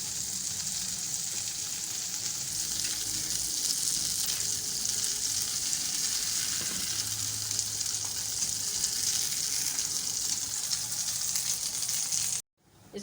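Bajra roti cooking on a hot pan with butter gives a steady, loud sizzle that runs unbroken for about twelve seconds, then cuts out abruptly near the end.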